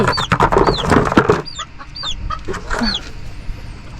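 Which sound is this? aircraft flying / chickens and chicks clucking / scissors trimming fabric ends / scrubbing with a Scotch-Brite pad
chickens and chicks clucking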